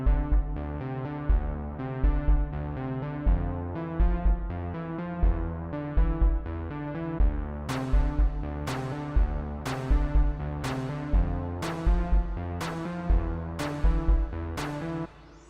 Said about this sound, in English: on the second time around, the snare drum now comes in